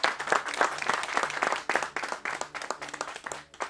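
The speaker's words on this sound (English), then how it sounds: "So let's give a little round of applause for that to start with." An audience at a World Economic Forum opening bell event gives a round of applause, heard as lively, uneven clapping with distinct sharp claps, fairly close and loud throughout.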